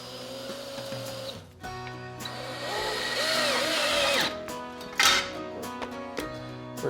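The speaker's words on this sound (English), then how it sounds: "it should just drill right through the aluminum" Power drill driving a screw through a plastic washer into aluminum on an Otter Lodge ice shack, whining motor bursts that strain and rise in pitch, close and loud with short pauses between runs.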